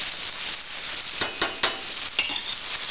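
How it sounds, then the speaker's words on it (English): Brussels sprouts and onion sauté in a hot pan, giving a steady close sizzle broken by a few sharp stirring scrapes and clicks. "So I'm going to let these saute a little bit."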